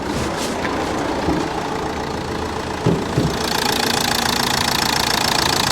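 A 2010 Renault Fluence's 1.5 dCi 81 kW K9K diesel engine idles steadily with a rough, knocking rumble, close by, with a couple of faint clicks and a brighter hiss joining partway through.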